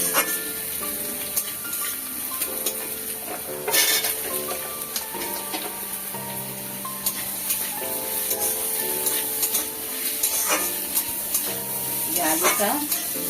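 Potato pieces fried with onion in a pan give a soft steady sizzle, with stirring and scraping from a spatula and an occasional clink of metal on the pan.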